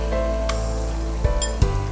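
Sliced onions sizzle and fry in hot ghee, a loud continuous hiss close by, broken near the end by a couple of clinks and stirs of a utensil against the pan.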